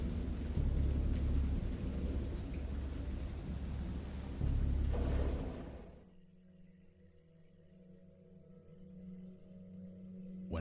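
A thunderstorm with heavy rain serves as a sound effect in a spooky story reading: a loud, steady downpour with deep rolling thunder for about six seconds, then it drops away to a quiet low hum.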